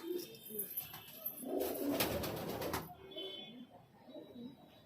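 Pigeons coo in a highflyer loft, a low throaty call repeated a few times up close amid light rustling, with a brief louder burst of flapping in the middle.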